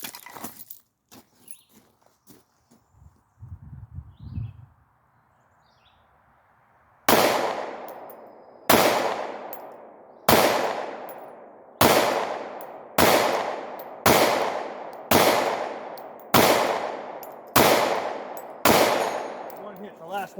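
A Glock 43 pistol fires ten sharp shots at a steel target 65 yards away, evenly spaced about a second apart, each loud crack trailing into echo. Faint handling noise and low talk come before the shots.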